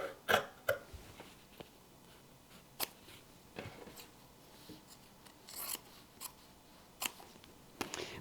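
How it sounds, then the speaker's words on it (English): Scissors snip through the fabric lining of a handmade bag, cutting out from the center. Sharp, close, irregular cuts and rasping snips come in quick clusters against a quiet background. "we are going to cut the inside of this lining out from the center"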